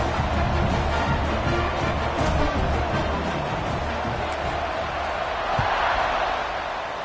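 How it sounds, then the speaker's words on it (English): A football stadium crowd at a Virginia Tech vs. UNC game keeps up a loud, continuous buzzing roar after a score, with a brief sharp thud partway through. "this crowd is buzzing after that last score"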